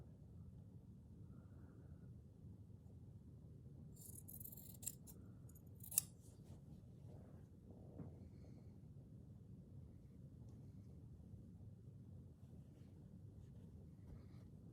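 Scissors trimming checked and striped fabric, a few faint snips and crisp cuts clustered together, with one sharper snip standing out against an otherwise quiet, low background hiss.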